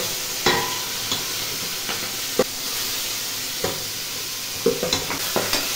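Curry fries in a pan with a constant close sizzle, broken by sharp scraping knocks of a spoon stirring against the metal at irregular intervals, several in quick succession near the end, with no voices.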